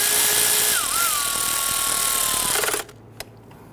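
A power tool whirs steadily while snugging bolts on a 2011–2017 Nissan Quest 3.5L V6 engine, its pitch dipping once under load, then it stops abruptly followed by a faint click, no talking.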